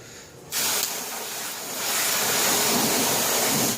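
Water from an engine wash sprays in a steady, loud hiss that bursts in after a brief quieter moment and keeps rushing without a break to the end.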